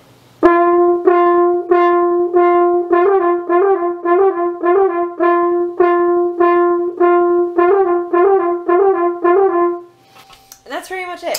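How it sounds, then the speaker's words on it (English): A horn plays a lip flip exercise in quarter notes, starting on C in the staff and flipping up to the next note and back, a clear, steady run of about a dozen tones played close, with brief noise after it ends. "you do quarter notes, C in the staff, and then you try to flip up to the next note."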